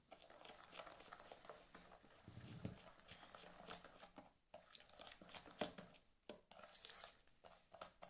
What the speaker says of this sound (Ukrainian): Можна переходити на ложку, перемішувати так буде зручніше.